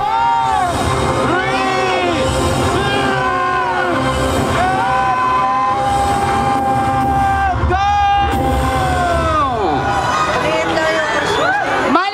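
Fireworks boom and crackle through a Christmas lights-on event in Quezon held in the rain, with dense bursts, whistles and a cheering, chattering crowd throughout.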